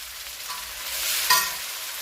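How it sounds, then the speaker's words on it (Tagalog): Onion and garlic sautéing in a pan give a steady, close sizzle, with a brief scrape of stirring partway through and no voices. "Magigisa po muna tayo ng sibuyas, garlic"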